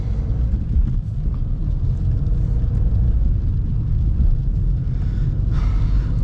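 A 1999 BMW E46 320d diesel's engine rumbles steadily from inside the cabin, a low continuous drone with road noise while driving.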